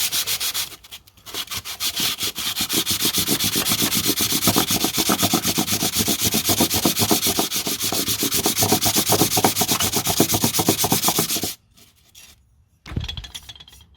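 An old enamel classic-car badge is sanded to a satin brushed finish with a steady, close, rasping back-and-forth rubbing that runs for about ten seconds, then stops with a short clunk.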